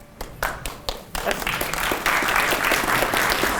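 An audience at a community meeting breaks into applause, starting with a few scattered claps and swelling into steady, dense clapping that fills the room.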